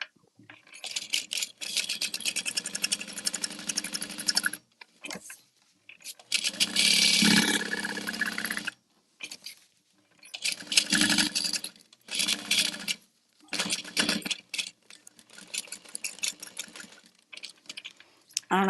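A home sewing machine stitches fabric late at night in several bursts of rapid needle chatter, separated by short silent pauses.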